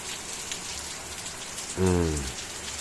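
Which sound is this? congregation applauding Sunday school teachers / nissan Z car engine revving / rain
rain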